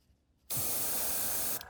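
An airbrush fitted with a 0.2 needle sprays thin transparent paint onto a fishing crankbait lure, a close, loud, steady hiss that starts abruptly and runs about a second before cutting off.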